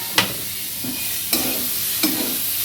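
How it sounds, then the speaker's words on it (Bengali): Chopped tomato goes into half-fried onions in a pan for a posto-style curry, giving a steady hot sizzle broken by three sharp stirring knocks spaced roughly a second apart. "টমেটোটা একটু সাহায্য করবো ভেজে নিতে।"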